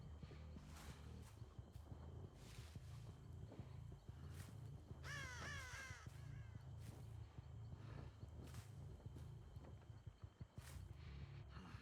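Crows caw in a few short, raspy bursts in the horror video game Dead by Daylight, heard amid a bed of game ambience, footsteps and clopping sounds, with no talk over them.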